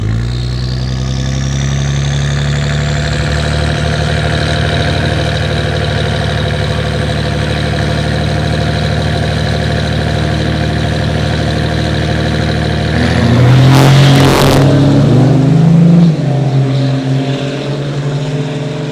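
A 2006 Ram 2500 pickup with a 5.9 Cummins diesel engine idles steadily with a low rumble, then briefly revs louder before settling back to idle.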